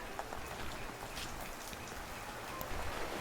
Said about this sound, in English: This rain, you take it in, you're like, hell yeah.